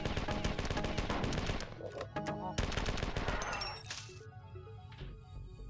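Rapid gunfire and a grenade blast from the sci-fi shooter video game Marathon 2: Durandal, loud and continuous with machine-gun bursts, metallic clinks and a crashing explosion.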